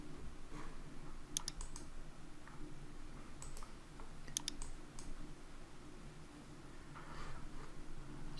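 A few sharp computer mouse clicks in small pairs, spaced a couple of seconds apart over quiet room hum, made while working in photo editing software.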